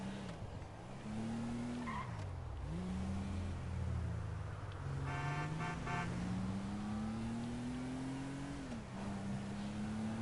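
A slow car drives through a PS4 racing game, its engine droning steadily and rising and falling in pitch with each gear change, along with brief tire squeals and no talk.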